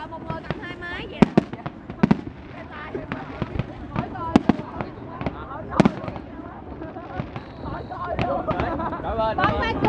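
Fireworks launched at the 2015 Dalat Flower Festival in Vietnam, with a series of sharp pops and bangs at irregular intervals over a busy crowd talking nearby.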